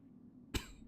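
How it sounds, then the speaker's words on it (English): A single short cough bursts out close and abrupt after a moment of near silence, followed by a faint trailing breath. "Cough."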